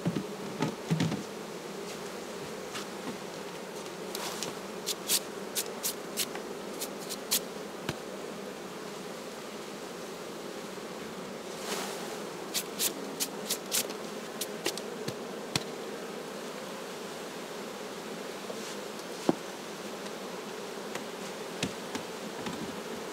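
Buckfast bees hum in a steady, dense swarm buzz at an opened hive, with scattered light clicks and rustles from handling the frames close by.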